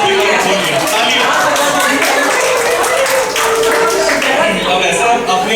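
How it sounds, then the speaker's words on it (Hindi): Audience applause at a Bollywood music quiz event, dense continuous clapping close and loud, mixed with crowd chatter and voices throughout. "तालियां।"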